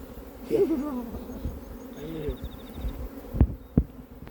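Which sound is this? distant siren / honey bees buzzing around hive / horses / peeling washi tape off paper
honey bees buzzing around hive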